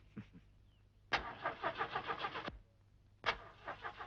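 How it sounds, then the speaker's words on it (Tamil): A car engine cranks and struggles to start, with two rapid rhythmic bursts of starter grinding, each cutting off without catching, and a short cough before the first attempt. "ஸ்டார்ட் ஆயிடு லட்சுமி, சோதிக்காத. ஸ்டார்ட் ஆயிடு."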